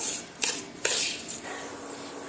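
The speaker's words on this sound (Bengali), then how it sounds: "চিনি দিয়ে আবারও সুজির সঙ্গে এইভাবে নাড়তে চাড়তে থাকবো" A spoon scrapes and rasps against a pan while semolina and sugar are stirred, giving a few sharp scraping strokes over a soft hiss.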